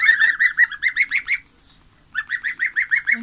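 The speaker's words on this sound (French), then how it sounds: "Voilà, mes 4 petits bébés oies." Four goslings peep in quick, regular high-pitched calls, close and fairly loud, with a brief pause in the middle before the chirping resumes.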